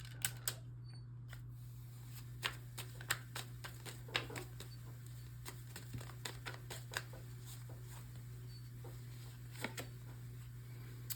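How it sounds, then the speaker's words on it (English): A deck of shadow cards is shuffled and handled in a quiet room, giving a run of soft, papery clicks and flicks at an irregular pace over a steady low hum. "Let's pull some shadow cards."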